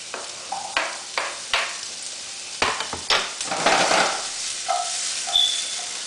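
Carrots and onion frying in a pan, a constant hissing sizzle broken by several sharp utensil scrapes and knocks against the pan, close and loud with no one talking.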